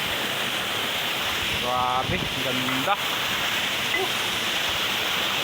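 Waterfall at a river in Pangil, Laguna, a steady, full rush of falling water that fills the whole clip, with a voice briefly speaking and exclaiming over it.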